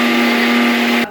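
A kitchen mixer grinder whirs steadily with a loud, even motor hum while grinding coconut chutney with salt, then cuts off abruptly.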